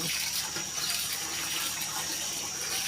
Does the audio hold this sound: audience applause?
no